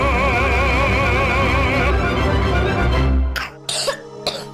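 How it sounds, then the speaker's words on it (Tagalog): A child's coughing fits come through loud and close over a dense, music-like bed, then give way to a few separate, sharp coughs toward the end, set in a Filipino advert for cough syrup. "Ubo ng anak? Nakababahala? Baka plema."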